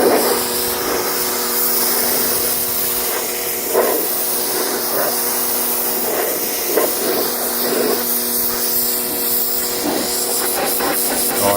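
A pressure washer blasts dirty car carpet up close, giving a loud, continuous spraying hiss that holds steady throughout, with faint spattering bursts as the jet moves across the fabric.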